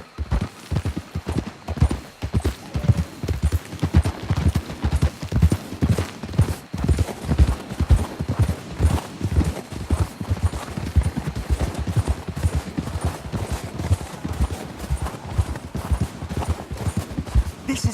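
Horses' hooves clip-clop steadily in Red Dead Redemption 2, a continuous rhythmic trot of several animals close by that runs on for many seconds.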